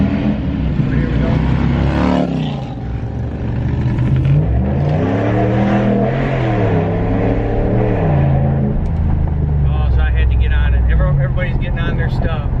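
A pickup truck with a Hemi 5.7L engine and loud exhaust accelerates, its deep engine roar rising and falling in pitch as it revs, loud and close throughout with talk over it.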